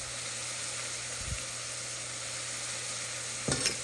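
Cabbage and fish curry with turmeric, coriander and chili sizzles steadily in a pan, a faint even hiss broken by a couple of brief stirring scrapes.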